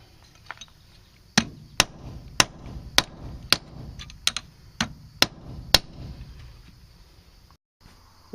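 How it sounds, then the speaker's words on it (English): Steel being hammered flat on a hard surface to form the prongs of a fish and frog gig for a hiking staff, about ten sharp ringing metallic blows at a steady, slightly uneven pace, close and loud, with no talk. "I'm just going to beat on it and flatten it out."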